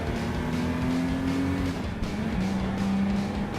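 A classic Jaguar E-Type race car engine in Gran Turismo Sport drones loudly and steadily with a sustained tonal hum that shifts pitch midway, with other race cars audible in a continuous near engine roar.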